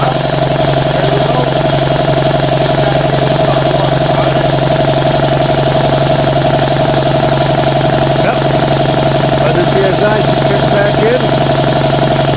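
An air compressor runs steadily and loudly after kicking back on, its constant motor drone and hum holding through the whole stretch with a few faint rattles on top.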